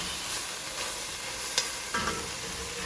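A spoon stirring tomato juice across a hot pan to lift the browned fond, low steady sizzling with a few soft scraping strokes, close and fairly quiet.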